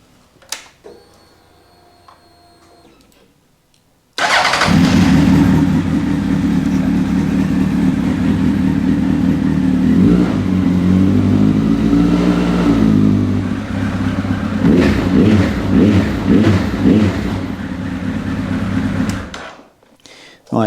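After a few quiet clicks, a Honda CB 1300 motorcycle engine fires up loudly, idles roughly, then revs in several sharp bursts before cutting off.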